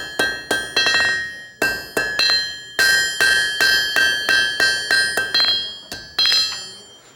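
Hammer blows ring on a hot steel tool blank being trued up at a blacksmithing conference, coming in quick bursts of sharp, bright metallic strikes with short pauses between groups, loud and close.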